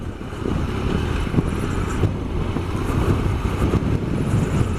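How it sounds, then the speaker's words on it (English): Steady Triumph Explorer XCa adventure motorcycle engine running at low revs through ruts with wind buffeting the microphone, a continuous rumble with slight rises and falls throughout. "you can hear the revs"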